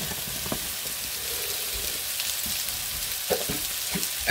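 Apples and onions sizzle in butter in a pan, a soft continuous frying crackle close by with occasional faint stirring clicks and a sharper knock at the end.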